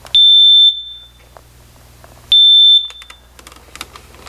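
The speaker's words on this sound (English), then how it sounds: "we want to make sure and test the smoke detector for proper operation" Smoke detector test alarm, battery freshly installed: two loud, piercing high-pitched beeps, each about half a second, spaced roughly two seconds apart, with faint tapping and handling noises in between.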